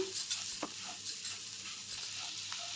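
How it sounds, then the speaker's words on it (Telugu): A spoon stirs an egg and drumstick-leaf fry with grated coconut and carrot in a pan, giving soft, quiet scraping with a light sizzle and occasional clinks. "కొద్దిగా కొబ్బరి తురుము, కొద్దిగా క్యారెట్ తురుము బాగా మిక్స్ చేసుకుందాం"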